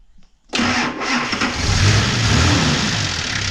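A Nissan car engine cranks and catches after a brief quiet moment, then settles into a steady, fairly close running idle with a slight rise in revs.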